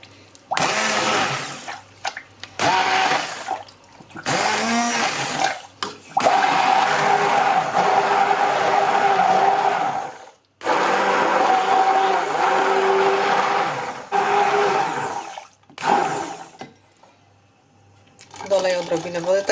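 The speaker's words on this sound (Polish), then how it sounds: "No i będziemy teraz miksować." A blender whirs loudly in several bursts with short pauses between, its motor pitch shifting as it churns thick pumpkin cream soup.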